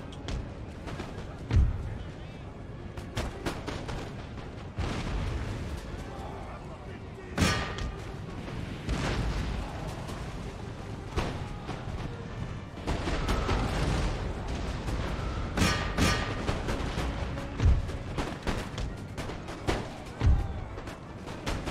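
Cannon artillery fires in an Empire: Total War battle with a Prussian army, sharp booms recurring irregularly over a dense wash of battle noise, with someone talking over it.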